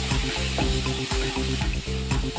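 Chopped onions for an egg gravy fry and sizzle in a pan while being stirred, with a steady crackle and repeated scraping strokes from the spoon, close and with no talking.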